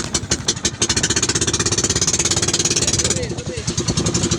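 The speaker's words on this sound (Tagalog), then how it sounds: "dayon bitik sa makina ni Brad Wanets aw one click ra hastang kondisyon ning makina ha." Pump boat engine chugs in a fast, loud, regular putter right up close after starting, with a person talking over it near the end.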